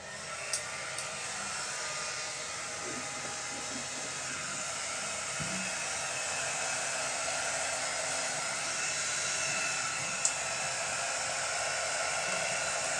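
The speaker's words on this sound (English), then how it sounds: "wonder if I'm going to get my heat gun and dry this up" A heat gun on its low setting blows over wet paint with a steady, loud airy roar and hiss that holds constant throughout, punctuated by a couple of tiny clicks and no talking.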